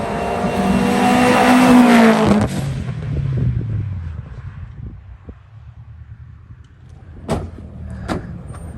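A race car at the Shelsley Walsh hill climb screams past nearby, a loud rising engine howl that peaks then drops away abruptly, followed by quieter distant engine drone and a couple of sharp clicks.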